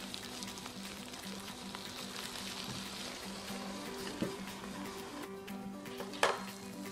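Eggplant masala sizzles and simmers in a pan, a steady soft frying hiss with occasional clinks of a spoon against the metal, heard alone without talk.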